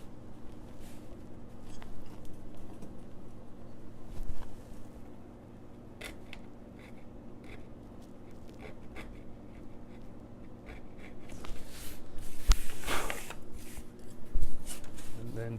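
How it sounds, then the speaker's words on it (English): A small hand saw rasps through a wooden guitar lining in a series of short, scratchy strokes, close up and fairly quiet over a low background hum. "Just run that saw again through there."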